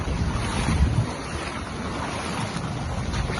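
Sea surf and strong wind roar steadily on the Jamaican coast in the aftermath of Hurricane Beryl, with heavy wind buffeting the microphone and no voices.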